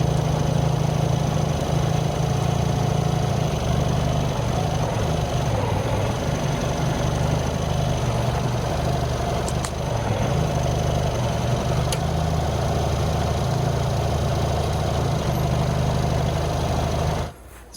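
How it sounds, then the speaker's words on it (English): A tractor engine labors steadily while trying to pull a 5,000-pound shipping container, a loud, close, continuous drone with little change in pitch before cutting off abruptly at the end. "the tractor's not able to pull it."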